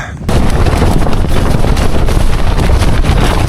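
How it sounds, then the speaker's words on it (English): Strong wind buffeting a microphone at an exposed UK camping spot, a loud, continuous rumbling roar and gusting that fills the whole stretch after a brief quieter start, with no speech. "the wind here is absolutely brutal"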